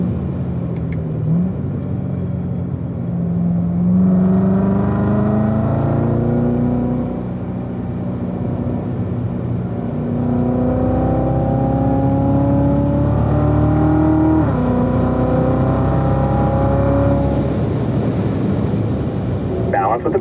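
A Corvette accelerates through its gears on a track at a driving school, the engine note climbing and dropping in repeated pulls as it shifts, loud and close with a steady rumble between.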